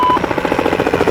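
A helicopter flies overhead above a city street, its rotor making a loud, steady rhythmic thumping that pulses evenly throughout and sits close and dominant.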